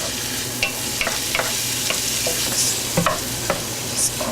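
Vegetables sizzle in a hot pan, a steady frying hiss broken by several scrapes and stirs of a utensil, close and fairly loud with no talk.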